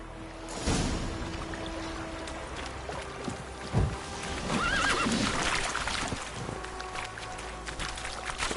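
Roach the horse in The Witcher 3 whinnies clearly mid-clip amid hoof clops and ambient game sound, with a few brief background noises around it.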